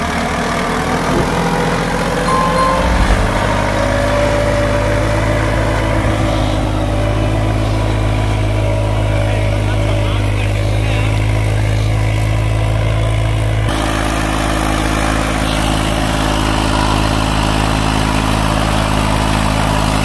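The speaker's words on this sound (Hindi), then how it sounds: "रेस मार, रेस। हाँ रेस दे, रेस।" A tractor engine pulling a cultivator revs hard, then holds a loud, steady low rumble for the whole stretch, with pitch shifts as the throttle is pushed.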